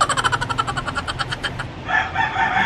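A rooster crows a drawn-out cock-a-doodle-doo in a rural setting in Bataan, Philippines, loud and fairly close, followed by a brief burst of broader noise at the end.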